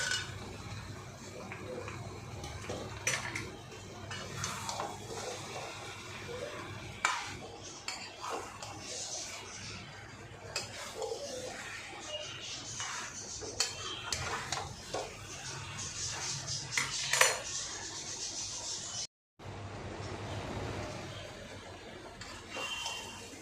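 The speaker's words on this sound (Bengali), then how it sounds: "এবার এই যে আলু আর পেঁপে আছে এগুলো দিয়ে কষিয়ে নেবো" Chicken with potato and papaya is stir-fried in a pan, with a spatula clanking and scraping in irregular bursts over a low cooking background and a brief dropout near the end.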